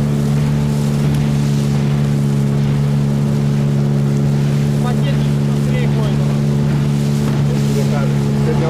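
A Suzuki outboard motorboat engine drones steadily and loudly on a Siberian taiga river, a constant low hum with water rushing alongside and voices talking over it.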